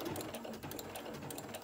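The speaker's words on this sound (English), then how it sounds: "using my Singer sewing machine that I got at Joann Fabrics several years back" A Singer sewing machine set to a regular 2.5 stitch length with white thread stitches through layers of a pocket book journal, giving a steady, close, continuous mechanical whir with rapid rhythmic needle clatter.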